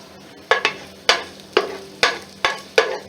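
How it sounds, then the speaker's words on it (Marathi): Green chillies and garlic cloves fry in hot oil, with a soft sizzle broken by about seven sharp scraping strokes of a spatula against the pan, close and steady, with no voices. "तेलावर चांगलं परतून घ्यायचं आहे, लालसर होईपर्यंत."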